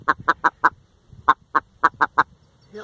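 A grouse calls angrily at close range with a run of loud, rhythmic clucks, four quick notes, a short gap, then five more in a steady series, followed by a brief low voice.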